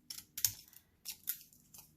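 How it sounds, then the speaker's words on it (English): Zigzag craft scissors snip through a junk mail envelope in quick, crisp cuts, several sharp close-up snips in an uneven rhythm with no talking. "zigzaggy scissors"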